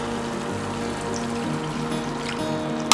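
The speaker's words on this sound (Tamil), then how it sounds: "கொஞ்சம் தண்ணி ஊற்றிப்போம்." Water pours steadily into a hot pan of frying vegetable kurma, a close, continuous trickling splash that ends with a sharp little clink.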